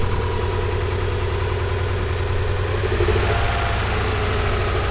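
A Subaru car engine idles steadily just after starting, a constant low mechanical hum with a faint tick, close and with no talk.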